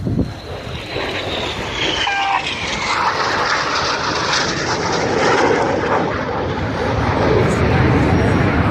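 Red Arrows synchro pair jets crossing in opposing turns at the Yeovilton air day, a loud sustained roar of jet engines that rises and swells as they pass, with a commentator talking over it.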